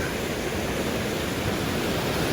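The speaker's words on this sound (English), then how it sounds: "Now that is a waterfall." A waterfall and creek in the Angeles Forest rush with a loud, steady, broadband roar, constant and close throughout with no voices.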